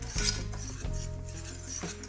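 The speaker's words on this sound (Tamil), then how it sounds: "இதை கட்டி இல்லாமல் முதல்ல மிக்ஸ் பண்ணுவோம்." A spoon stirs coconut milk with salt in a bowl, giving soft scraping and a few light clinks against the sides in a quiet setting, with a couple of sharper knocks near the start.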